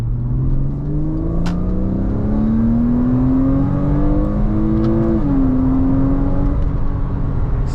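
A 2010-2012 (987.2) Porsche Boxster base sports car engine revs loudly and steadily, its pitch climbing through a long pull before dropping briefly and rising again, with no talking.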